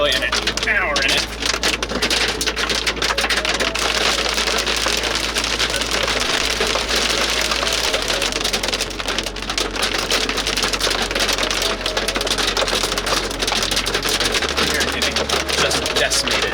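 Golf ball-sized hail pounds down in a supercell storm, a loud, dense, continuous drumming and clatter that never lets up, with voices talking through it.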